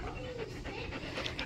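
A pet dog pants in quick, steady breaths close by. The panting sits under a noisy, busy indoor background.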